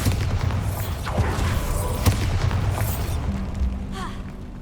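Confringo and Bombarda spell blasts in the game Hogwarts Legacy, a run of heavy booming explosions with crackling debris and a sharp crack partway through, fading into quieter rumble and whooshing effects.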